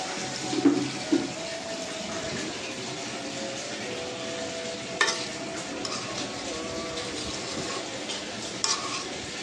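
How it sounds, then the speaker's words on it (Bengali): Broth splashes into a pot of braising chicken and potatoes, setting off a steady low sizzle and bubbling, with a few sharp clinks of utensils against the pot. "এখন অল্প পরিমাণ ঝোল দিয়ে দিব।"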